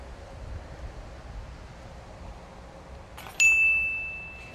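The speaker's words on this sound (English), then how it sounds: "We're working with a headwind" Headwind buffeting the microphone on a disc golf course, a steady low rumbling gust throughout, then a sudden bright metallic ring that fades slowly near the end.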